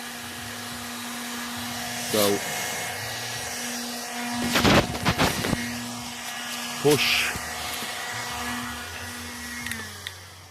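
A steady, droning vacuum whine runs throughout as it sucks water from a BMW E36's wet carpet, with a few brief clattering bursts and a short spoken remark over it.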